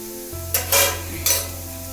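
A spoon scrapes through vegetables frying in a pot as salt and turmeric go in, bringing a steady hum and then three short bursts of stirring and sizzle.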